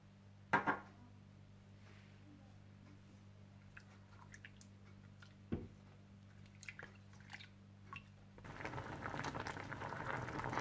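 Aloo bukhara plums simmering in water with sugar, red chilli powder, salt and garam masala for chutney give a faint, quiet bubbling with a few soft drips and knocks, swelling into a steadier low rush near the end.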